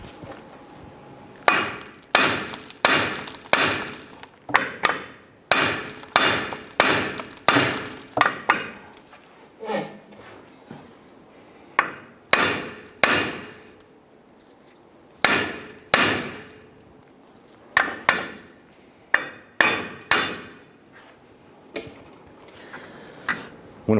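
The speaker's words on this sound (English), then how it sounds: "I'm going to use a hammer and I'm going to strike the front side of the knuckle while applying upward pressure to release this" Hammer blows on the steering knuckle of a 1995-2001 Ford Explorer during inner tie rod replacement, struck in quick rhythmic bursts of sharp metallic strikes with short pauses between groups, close and clear.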